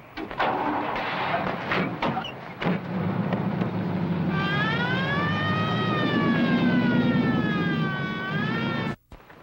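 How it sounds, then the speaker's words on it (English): A wavering siren from the 1977 film Snowbeast wails for several seconds after some rumbling noise, its pitch sweeping up and down steadily before cutting off abruptly. "That was the puniest siren I've ever heard in my life."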